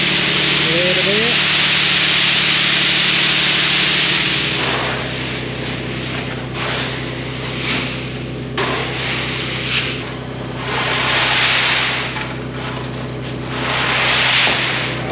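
A nut buggy dumping peanuts onto a wagon: a steady engine drone underlies loud rushing, pouring surges of nuts that swell and fade in waves.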